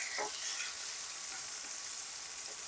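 Ginger garlic paste and chopped tomato sizzle in a pan, a steady close frying hiss with a light scrape of stirring early on.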